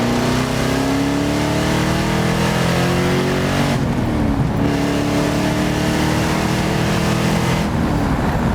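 A 1975 Alfa Romeo Montreal accelerating hard, its engine revving loud and close through rising harmonics, with two brief gear-change dips before pulling again; no talking.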